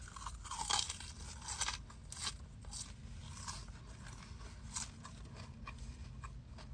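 Close, crisp crunching of truffle fries served alongside a banh mi, repeated bites and chewing in an irregular rhythm with no talking.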